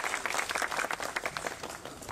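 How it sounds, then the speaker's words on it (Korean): An audience at a memorial park in Geoje bursts into dense, lively applause that stays steady and fairly close for the whole moment. "큰 박수를 맞이해 주십시오."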